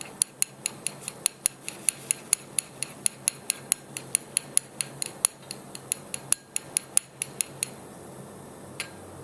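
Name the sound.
stirring a liquid until it evaporates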